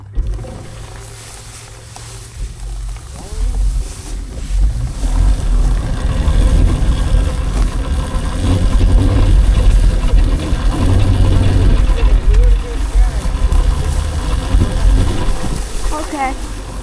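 An electric dirt bike rides along an off-road dirt path, its motor giving a continuous whine under wind rumble and rough-terrain noise, while people talk over it.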